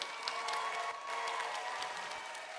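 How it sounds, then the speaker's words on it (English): An audience at a FIRST robotics state championship event applauds volunteers, a sustained, fairly distant roar of many hands clapping with faint cheering mixed in. "Let's give them a big round of applause."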